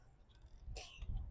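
A single quick sneeze bursts out near the middle of a short, quiet moment at the Atlanta Botanical Garden, brief and moderately close.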